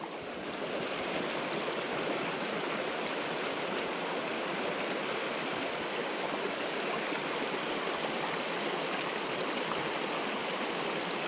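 A Quebec trout stream rushes in a steady, broadband wash of flowing river water, close and continuous, with no voices.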